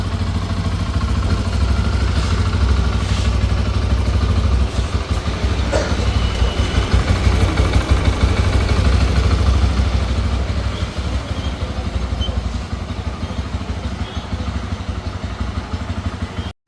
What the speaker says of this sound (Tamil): இன்ஜின் சத்தம் வந்து நல்ல ஒரு நீட்டான சத்தம்.